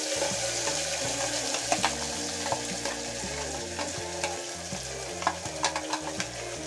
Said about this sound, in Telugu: మెంతి, జాపత్రికాయ వేసుకొనేసిన తర్వాత అవి బాగా వేగనివ్వండి